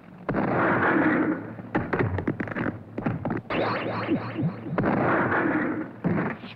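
Loud, harsh zapping blasts fire repeatedly in bursts from a ray cannon in the Speed Racer cartoon, with crackling pops and rumbling booms, like a sci-fi energy weapon shooting at close range.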